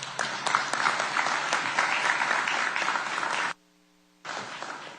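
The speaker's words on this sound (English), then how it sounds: "We can give him a round of applause." A summit audience in Guyana claps loudly for India's prime minister in dense, sustained applause that breaks off briefly and then resumes.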